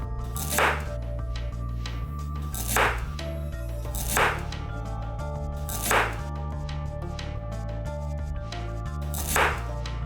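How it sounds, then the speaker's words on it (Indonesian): Ginger is chopped into small pieces with a knife on a board for Hong Kong-style steamed fish: five sharp, evenly spaced chops about two seconds apart, close and distinct over a steady low background hum. "Kemudian potong jahe kecil-kecil."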